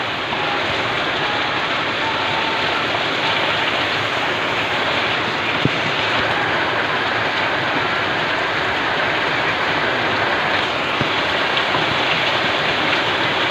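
Steady, dense hiss of rain falling continuously, loud and even throughout with no talking.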